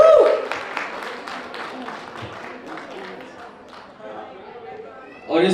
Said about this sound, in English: can we get a huge round of applause for their performance and their entry,